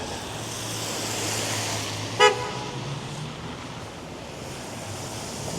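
A single short car horn toot cuts through steady traffic rumble on a snowy downtown Toronto street, moderately distant and brief against the continuous road noise.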